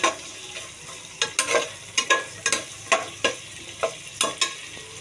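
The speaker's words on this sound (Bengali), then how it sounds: "এখানে পেঁয়াজটা আমার ভাজা হয়ে গেছে" Chopped onion, garlic and chili fry in a pan while being stirred: a steady soft sizzle broken by about ten sharp, regular scraping strokes of a spatula, close and fairly loud, with no talking.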